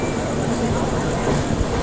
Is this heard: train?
yes